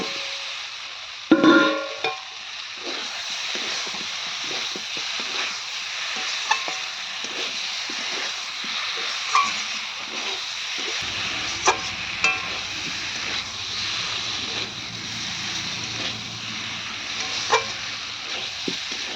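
Katla fish kalia masala with potatoes and meat masala being stir-fried in a pan: a steady, close sizzle with repeated scraping stirs and occasional sharp clacks of the spatula throughout, no talking.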